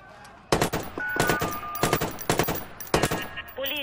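Repeated bursts of automatic gunfire crack out during a Watch Dogs video-game shootout, several sharp volleys in quick succession at close range, with a faint electronic tone running underneath.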